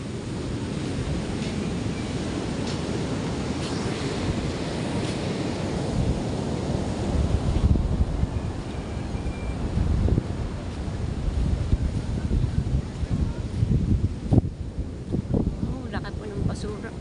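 Typhoon Krising's rough wind buffets the microphone over a constant roar of churning surf on the shore, the noise rising and falling in strong gusts.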